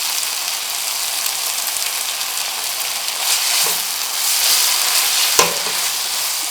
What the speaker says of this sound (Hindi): अब हम इसमें अपना लेमन जूस डालेंगे।